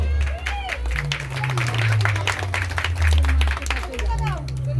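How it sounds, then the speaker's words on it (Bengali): A crowd at a village prize-giving ceremony claps for a winner, with dense, sustained applause close by and a low hum and voices running underneath. "একটু হাততালি হোক"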